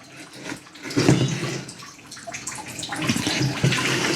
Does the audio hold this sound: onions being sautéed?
no